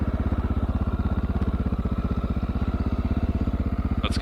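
Honda XR650L dual sport motorcycle climbing a dirt hill: a steady, close single-cylinder thump pulses evenly throughout, with a brief clatter near the end.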